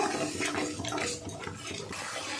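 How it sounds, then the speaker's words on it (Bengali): Water is poured from a rinsed spice bowl into a hot cooking pan with soybeans and spices, a short rushing splash followed by fizzing and sizzling, close by and steady, with no talking. "মশলার বাটিটা ধুয়ে একটু জল দিয়ে দেব বন্ধুরা।"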